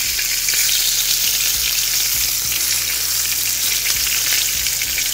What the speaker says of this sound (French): ma poêle devrait être assez chaude. On va promener un peu nos poitrines. Et là, on va faire griller